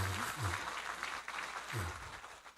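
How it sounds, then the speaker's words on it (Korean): A church congregation at a worship service claps to welcome visiting missionaries, moderate clapping mixed with low voices and murmuring. "우리 박수로 환영하겠습니다"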